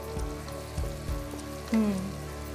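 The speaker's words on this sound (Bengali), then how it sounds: "পেঁয়াজ বাটাটার ভেতরে একটুখানি বেকনটা আমরা ভেজে নেব" Bacon frying in a pan with onion paste, a steady soft sizzle and crackle that runs alone throughout, with a few light knocks and a brief tonal scrape near the end.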